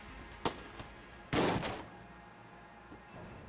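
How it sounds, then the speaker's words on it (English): Bursts of gunfire in the video game Enter the Gungeon as a chest is shot: a sharp single shot, then a longer loud volley about a second later, with faint game sounds in between. "And I accidentally shot the chest instead of opening it with a key"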